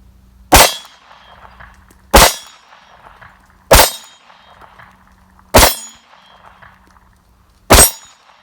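Five sharp metallic clangs ring out from a SCCY CPX-2 pistol's rounds striking steel targets. They come at slow, fairly even intervals, each a loud, bright impact with a short ringing decay.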